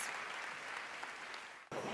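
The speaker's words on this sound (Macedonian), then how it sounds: "крајот беше проследен со аплауз" Applause from an audience closing a live music performance, a dense steady clapping that fills most of the moment, dips briefly, then surges back.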